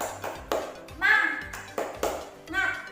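A group of schoolchildren does a rhythmic cheer clap in a classroom, with several sharp bursts of claps spaced across the moment and a teacher's voice and children's chanting mixed in.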